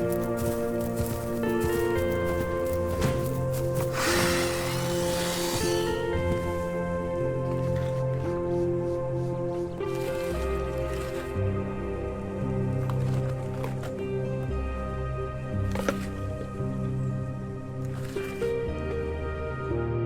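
A dinosaur eats a small lizard in the video game Path of Titans: wet, squishy chomping bursts, loudest in one dense flurry early on and then scattered bites, all over a steady, continuous tonal music bed.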